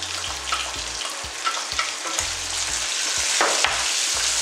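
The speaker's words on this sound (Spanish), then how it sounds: "Seguimos sofriendo." Chopped onion sizzles steadily in hot rendered fat while cooking Cuban oxtail stew, a dense continuous crackle with occasional utensil clicks and low bumps from stirring, moderately loud and close, no talking.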